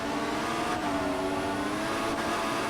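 An F1 race car engine in F1 2014 drives a Spanish Grand Prix career race. A loud, continuous high-pitched whine holds steady as the car puts power down, with a brief gear-shift dip partway through and no voices.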